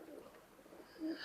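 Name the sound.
Pakistani Teddy and KTM pigeons cooing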